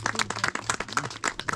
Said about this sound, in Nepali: सबैजनाले आफ्नो लागि र साथीभाइको लागि ताली बजाउनु त एकचोटि